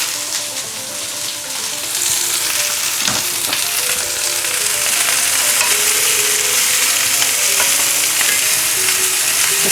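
Onions, garlic and chorizo fry in a wide pan with a loud, continuous sizzle and crackle, occasional stirring scrapes and pops running throughout.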